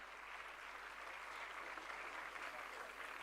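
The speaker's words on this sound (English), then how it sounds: "With a huge round of applause, again, let us congratulate them for their achievement." Applause from an audience congratulating achievers at a young achievers summit in an auditorium, a dense, even wash of clapping sustained throughout, fairly faint and distant.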